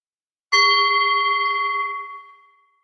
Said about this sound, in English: I'm going to play my meditation bell. I'm just going to sound it once